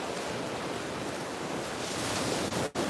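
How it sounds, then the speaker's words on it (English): Rough ocean surf rolls onto a beach in Southwest Florida, a steady loud broadband wash of breaking waves with wind across the microphone, close and continuous with no talk. "the rough waves just sound amazing"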